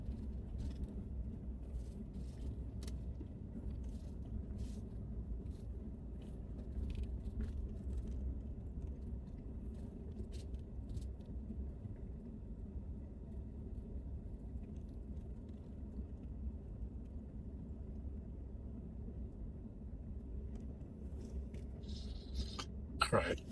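Inside a car driving on a road, a soft, steady low rumble of engine and tyres continues throughout with faint clicks, ending in a brief rattle.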